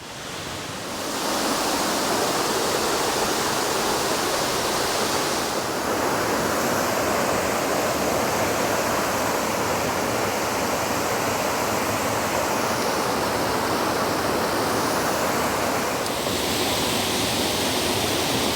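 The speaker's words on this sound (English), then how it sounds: "But this is Horseshoe Falls." Horseshoe Falls at Mount Field, Tasmania, roars as a steady, dense rush of falling water heard up close, continuous and loud with no talking.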